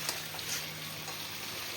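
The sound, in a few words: frying onion and capsicum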